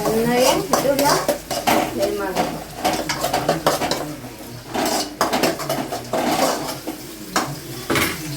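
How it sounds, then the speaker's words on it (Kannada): Onions are sautéed until browning in a pan for egg rice, a spatula scraping and clanking against the metal in irregular strokes over a soft sizzle, close and fairly loud. "ಈರುಳ್ಳಿ ಸ್ವಲ್ಪ ಬ್ರೌನ್ ಕಲರ್ ಬರೋವರೆಗೂ ಬಾಡಿಸ್ಬೇಕು"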